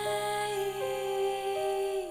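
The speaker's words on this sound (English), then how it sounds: "I put like this weird rotary effect on it, and it sounds like this now" A vocal sample from a Heavyocity library, slowed down and run through a rotary effect, hums as a sustained, wavering tone that bends slightly in pitch, heard on its own.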